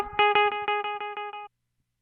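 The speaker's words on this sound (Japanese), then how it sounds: "フットスイッチと一緒に残響を、切ってしまう設定ができます" An electric guitar note runs through a BOSS RE-2 Space Echo pedal, repeating in about eight evenly spaced, slowly fading echoes before the footswitch cuts the repeats off abruptly into silence.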